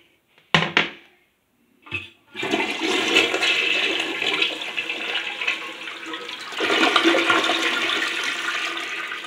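A 2004 Mansfield Alto toilet is flushed, with a couple of sharp handle clunks, then a strong rushing swirl of water that drains and turns into a steady refill hiss, heard up close.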